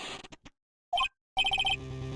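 A transceiver in Phoenix Wright: Ace Attorney - Justice for All rings with short electronic trilling bursts, one brief pulse then a rapid run of beeps, alone and fairly loud after a few game text blips.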